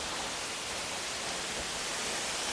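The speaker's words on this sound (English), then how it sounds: "Absolute perler of a waterfall" Crystal Falls waterfall pours in a dense, continuous roar of falling water, loud and steady throughout with no voices.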